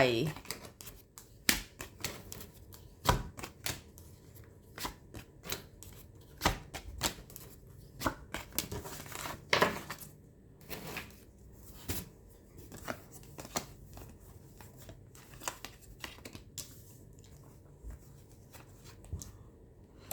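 Tarot cards shuffled and laid down during a reading, a steady run of soft flicking, tapping and sliding card sounds with someone speaking over them throughout.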